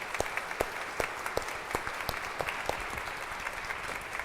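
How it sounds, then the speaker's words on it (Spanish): A church congregation applauds at a Spanish-language Mass, a steady bed of clapping with distinct sharp individual claps popping out repeatedly close by. "un aplauso para todos ellos"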